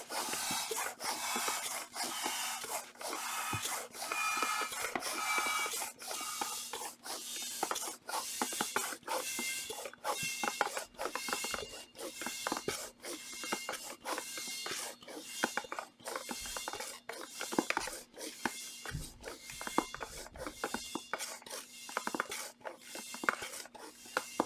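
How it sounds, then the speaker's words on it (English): A hand pump inflates a deflated ball with a needle, giving about two dozen rhythmic hissing strokes close by, each a short airy burst repeating roughly once a second. "Then you put the ball in and you start pumping it until it's about 10 psi."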